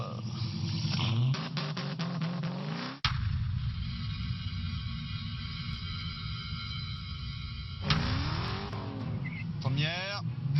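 A Dodge Challenger Hellcat's supercharged engine roars hard under full acceleration, climbing through gears with a sharp cut and renewed surge, loud and close, with someone talking over it.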